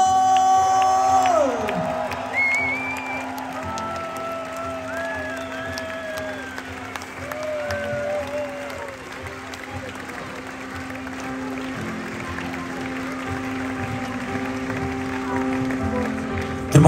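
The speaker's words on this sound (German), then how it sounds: "Wieder dabei, grossen Applaus für Simon" Concert crowd at the Moon&Stars 2022 festival in Locarno applauding and cheering for a band member, a broad sustained roar of clapping with whoops, while an announcer's amplified voice talks over the start.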